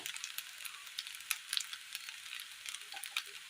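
Sautéed tomato with pepper powder being stirred in a frying pan, giving a faint, soft sizzle with light crackles and scraping throughout.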